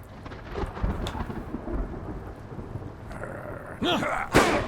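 Thunder in the Blacksad video game, a rumbling roll over steady rain that builds toward a louder crack near the end, with no voices.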